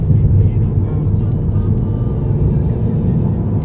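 Deep, steady roar of a 2012 Volkswagen Phaeton 4.2 V8 engine building under acceleration, loud and continuous from inside the car, with someone talking over it.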